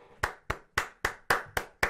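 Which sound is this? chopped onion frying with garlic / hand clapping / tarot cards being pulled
hand clapping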